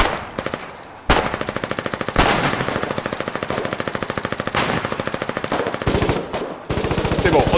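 Rapid automatic gunfire from the Foxhole war game, a loud continuous stream of shots in long bursts with a few short breaks.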